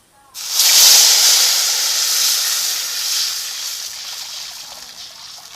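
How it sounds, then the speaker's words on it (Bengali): Water poured into a hot pan for hilsa fish curry with potato and eggplant bursts into a loud, close steaming hiss that slowly fades. "এখন জল দিয়ে দিচ্ছি"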